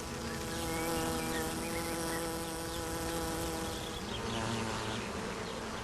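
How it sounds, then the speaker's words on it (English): A swarm of honeybees drones in a dense, continuous buzz, steady and loud throughout, with many overlapping wingbeat tones and no voices. "honeybees were sacred, and in other cultures, they were domesticated"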